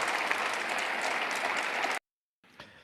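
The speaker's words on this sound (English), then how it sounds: "the fact that here the members were clapping" Members of parliament clap together in a chamber as a dense, steady wash of applause, which breaks off abruptly, then a fainter bit of clapping follows.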